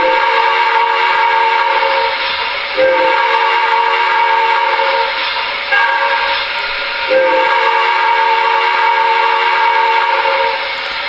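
The crossing signal on an MTH Premier NYC Niagara freight set's model train whistle: a long pattern of loud, sustained reedy blasts with brief breaks near 3, 6 and 7 seconds, played alone and close.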